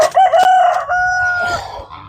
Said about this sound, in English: Hear that rooster?